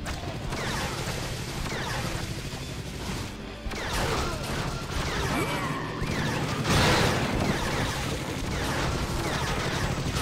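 A base exploding in the 2012 launch version of the video game Awesomenauts, a dense stretch of crashing, crackling blasts and rumbling booms layered over continuous game noise, loud and sustained for about ten seconds.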